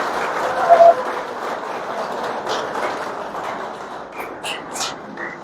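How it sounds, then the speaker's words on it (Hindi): An indoor crowd at a BJP event in Palwal, Haryana gives sustained applause to welcome a newly announced district president, steady clapping with some speech underneath, thinning toward the end. "एक बार जोरदार तालियों से स्वागत।"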